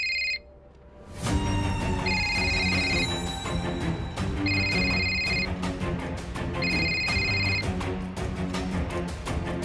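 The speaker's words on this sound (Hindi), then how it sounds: "किसका फोन है यार?" A telephone rings loudly in a home during a Hindi TV drama, giving three bursts of electronic bell-like trilling with short gaps between them. A musical background plays under the rings, and no one speaks over them.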